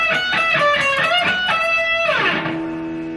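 An electric guitar plays the third phrase of a solo, with a quick run of picked, hammered and pulled-off notes that settles onto a held, ringing note, close and clear, with no voices.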